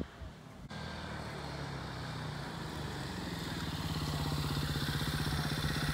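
A Lifan KPMini 150cc motorcycle rides past at speed, its small single-cylinder engine buzzing steadily and climbing in a throbbing, pulsing rhythm that grows louder toward the end.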